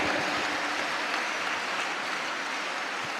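Congregation at a ministry service clapping in praise, a steady, hissing roar of many hands that stays level throughout, with no talk on top.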